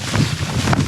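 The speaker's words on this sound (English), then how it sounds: "Bloody wind." Strong wind buffeting the microphone at a winter camp in snow, a loud, continuous roaring rush with no talk.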